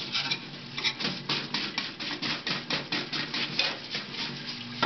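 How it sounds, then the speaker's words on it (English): Brisk scrubbing of AR-15 .22lr rifle parts in a parts washer, with a rapid series of rhythmic scraping and rubbing strokes, close and fairly quiet. "And you can really scrub."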